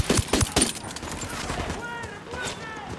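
Video game gunfire with a few sharp, loud shots at the start, followed by quieter battle ambience and faint whistling effects.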